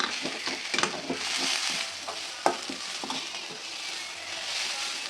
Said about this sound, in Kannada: ಇದನ್ನು ಚೆನ್ನಾಗಿ ಈಗ ಮಿಕ್ಸ್ ಮಾಡ್ತೀನಿ